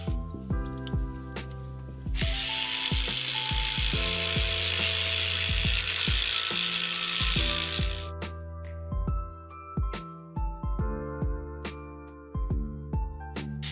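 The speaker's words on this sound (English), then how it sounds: "Rinse it or just start brushing?" A cleaning brush scrubs jewelry in a steady wet, hissing rhythm for several seconds, close and fairly loud under a backdrop of sustained musical tones and plucky notes.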